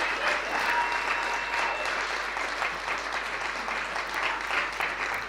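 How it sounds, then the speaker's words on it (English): A workshop audience gives sustained applause in a business workshop hall in Galeshewe, a dense even clapping that stays steady throughout with a few louder claps standing out. "Give yourselves a round of applause."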